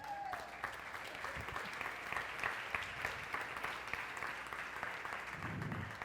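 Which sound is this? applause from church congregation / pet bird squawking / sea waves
applause from church congregation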